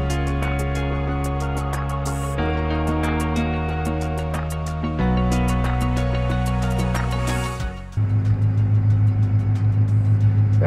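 A vehicle drives a 20-meter stretch to set a GPS A/B reference line with a CEMIS 1200 guidance system, its engine a steady close drone that shifts pitch a few times, with regular faint ticking above it.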